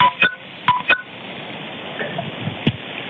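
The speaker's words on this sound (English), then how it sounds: "you can almost hear as if he's texting or fiddling with his phone" Phone keypad tones sound during a 911 call, several short beeps clustered early, then a lone tone near the end over steady telephone-line hiss, with no talk.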